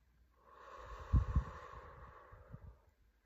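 Slow, deep breathing during a relaxation exercise, one long inhale that swells and then eases into a soft exhale, close and quiet, with a couple of louder breathy bursts partway through and no talking.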